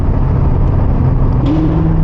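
A sports car engine drones loud and close, its rumble swelling into a rising rev toward the end with no voices over it.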